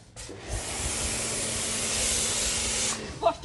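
A steady, close hiss of water spraying runs for about two and a half seconds, then stops, followed by a brief voice.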